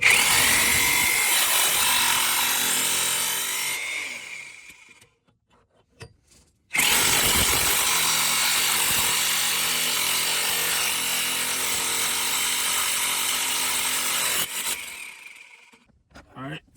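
A CV axle on a Nissan Maxima is worked loose with a power tool, giving loud, harsh grinding bursts close by: a long run, a short pause with a few brief hits, then another sustained stretch that tapers off.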